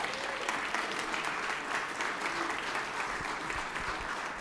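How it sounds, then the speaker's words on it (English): Applause fills the Georgia Senate chamber during a session, a sustained, moderately distant wash of many hands clapping with no one speaking. "That's right. That's applause."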